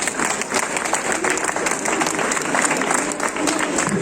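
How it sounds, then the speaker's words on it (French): A crowd at a farm expo cooking contest applauds a contestant's score, with brisk, dense clapping throughout and some voices mixed in underneath. "on peut l'applaudir"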